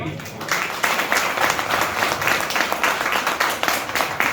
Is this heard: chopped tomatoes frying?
no